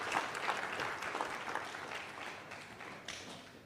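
Audience at a Nigerian political gathering applauds all the contestants, a steady crowd clapping that swells at the start and gradually thins out, with no speech over it.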